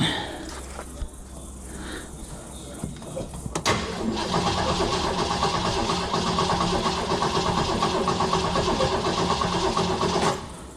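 A car with a failed distributor cranks repeatedly without catching: a steady mechanical churning runs for several seconds after a quieter start, then cuts off near the end, with faint voices early on.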